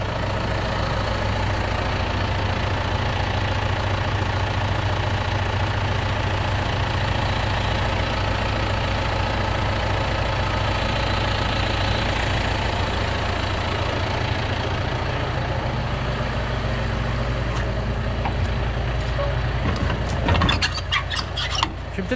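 A John Deere tractor engine idles steadily and close by, with a low knocking rumble that holds for the whole stretch. Some clatter and squeal come in near the end.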